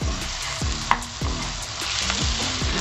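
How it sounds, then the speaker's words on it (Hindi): Masala sizzles and fries in ghee for egg ghotala, a steady close crackle with periodic stirring scrapes and a few sharper clicks, no talk. "अब ये हमारा मसाला देखें भून गया है, घी ऊपर आ गया है।"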